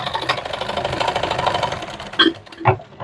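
Sewing machine stitching a sleeve seam on a gown made from a reused saree, a steady fast rattling whir up close that stops and gives way to a couple of short handling knocks.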